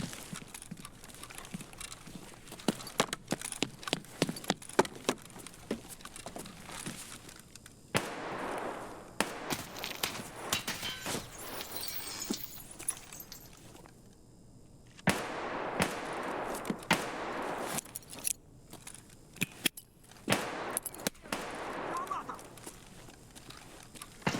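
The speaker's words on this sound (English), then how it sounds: "Although we are hearing some shots now." Gunfire rings out at night in the video game Escape from Tarkov (SPT), with scattered sharp cracks and short bursts, some distant and some nearer, spread across a long stretch with quieter noisy gaps between them.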